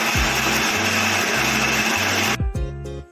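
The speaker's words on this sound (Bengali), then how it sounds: "এখন আম আর চিনি একসঙ্গে ব্লেন্ড করা হচ্ছে।" Mango and sugar whir in a countertop blender for a mango cake, a loud steady motor drone with pulsing low tones that stops near the end, leaving brief clatter and spin-down.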